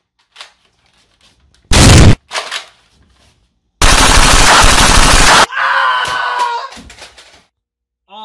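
Rifle fire in a video game comes as two loud bursts of rapid automatic shots, a short one and then a longer sustained volley, followed by excited voices shouting in the game.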